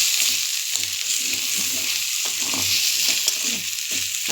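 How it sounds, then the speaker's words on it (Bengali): Ginger frying in a pan for bitter dal, a steady loud sizzle with stirring scrapes and small clatters running through the whole stretch, no voices. "ভেজে নিচ্ছি আদাটা।"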